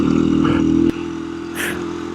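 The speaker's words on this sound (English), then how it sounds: "give it throttle" A KTM 350 dirt bike accelerating on desert terrain, a loud steady engine drone with a brief drop in pitch and a slight rise again, heard up close.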